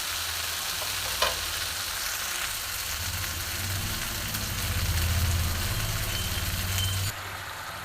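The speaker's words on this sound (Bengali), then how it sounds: "বন্ধুরা আমি অল্প জল দিয়ে দিয়েছি, দেখো জলটা ফুটতে শুরু করেছে" Banana flower gravy with a little added water bubbles and sizzles steadily in a frying pan, a dense continuous simmer with a low rumbling undertone, close and fairly loud, with no talking.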